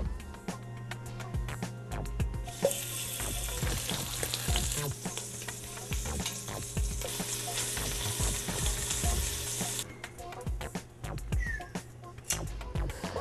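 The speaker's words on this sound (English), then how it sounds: "The first step in braising is actually searing it." Meat sears and browns in a hot pot for braising, giving a steady, moderately loud sizzle with crackling pops and occasional scrapes, with no talking.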